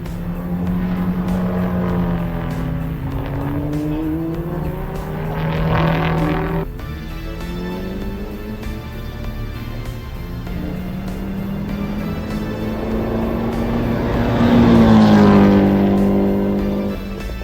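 A STROM B46 race car engine runs steadily at idle with a loud, close, continuous tone, rising in two brief revs midway and near the end, with no talk over it.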